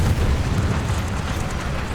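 Dull, heavy boom and rumble of a high-explosive shell striking an SU-76D tank in War Thunder, a loud low-frequency impact blast that lingers briefly.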